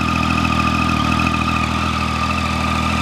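A Triumph 675 motorcycle's stock exhaust idles steadily up close, a smooth, even rumble that holds constant throughout.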